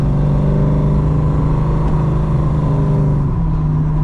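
Holden Torana muscle car engine pulling steadily under acceleration from inside the cabin, a loud, constant low rumble with a rising pitch shift near the end and no talking.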